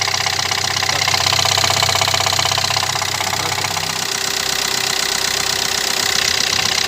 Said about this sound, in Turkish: O içerideki iticilerin vesaire egzantrein çalışma sesi burada